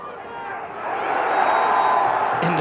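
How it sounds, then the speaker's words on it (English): A crowd at a college lacrosse game, Brigham Young at Colorado State, cheers and roars steadily under close commentary, the noise swelling after the first second. "crowd loving all the exchanges"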